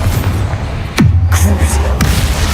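A Confringo fire spell blasts off in Hogwarts Legacy: a sharp crack followed by a low rumbling thud, then a second fainter crack, all over steady in-game background noise.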